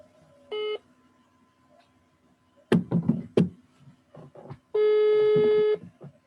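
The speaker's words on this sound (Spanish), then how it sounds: "Déjenme hablarle por teléfono" A telephone call being placed: two short electronic dial tones, the second longer, separated by a few sharp knocking or handling clicks, quiet and close.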